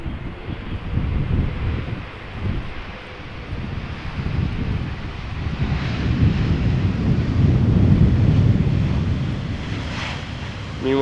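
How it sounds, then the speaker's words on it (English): Wind gusting across the open grounds of Amsterdam Schiphol Airport, a steady low roar and microphone buffeting that swells and eases, strongest toward the end, with a faint aircraft drone mixed in. "Meanwhile, wind is picking up a little bit."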